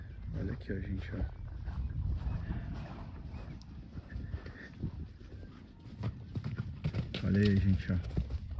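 Horses walking and descending on a Brazilian ranch give off irregular hoof clip-clops under near, ongoing talk, with wind buffeting the microphone.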